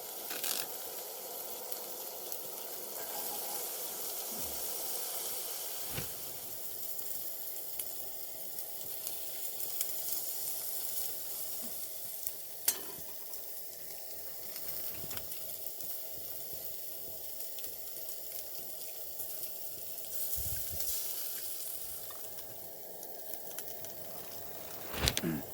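Chickpeas fry in a pan at an outdoor camp with a steady, quiet sizzle. Occasional soft clicks and stirring knocks break through the hiss, and nobody speaks.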